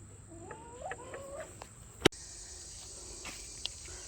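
Chickens cluck and chatter softly outdoors with a steady insect buzz in the background and a sharp tap partway through.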